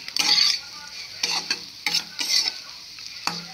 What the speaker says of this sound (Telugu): కారం వేసిన తర్వాత పెద్ద మంట పెట్టేసి 2 నిమిషాలు ఇలా కలబెట్టాలండి